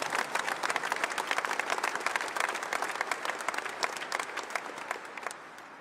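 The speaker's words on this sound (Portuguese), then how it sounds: "eu quero iniciar essa Santa Missa com uma grande salva de palmas a Nossa Senhora" A crowd at an open-air Catholic mass at a national sanctuary pilgrimage gives a long round of applause, dense and steady clapping from many hands throughout, moderately loud with no voice standing out.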